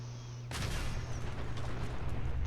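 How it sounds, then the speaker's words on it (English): A robot in Fallout 4 blows up with a sudden loud blast after a brief quiet lead-in, followed by a sustained crackling, rumbling roar. "That's going to explode."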